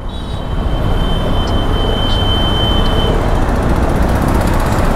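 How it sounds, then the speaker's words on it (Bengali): A train crosses an overhead bridge above a road, heard as a loud, continuous broadband rumble and roar from below, with faint high squeals, and no talking. "ওই দেখো ওপর দিয়ে ট্রেন যাচ্ছে, নিচ দিয়ে রাস্তা।"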